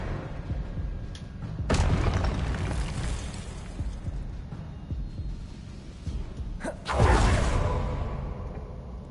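Magical spell blasts in Hogwarts Legacy: a sudden whooshing burst, a stretch of rumbling, then a second louder bursting impact that slowly fades, with no talking.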